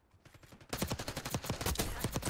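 Rapid automatic gunfire in Call of Duty: Black Ops 6 multiplayer, a dense burst of close, loud shots starting abruptly after a quieter moment and continuing without pause.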